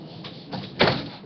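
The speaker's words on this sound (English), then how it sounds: "Probably should close that door." An indoor door is pushed shut, landing as one firm thud after a couple of softer knocks, with no talking over it.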